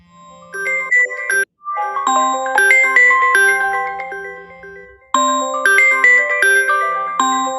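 Several telephones ring at once during a live call-in show, bright electronic chiming tones piling over each other in bursts with a brief gap, loud and close, with no talk.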